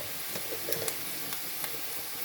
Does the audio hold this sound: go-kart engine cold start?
no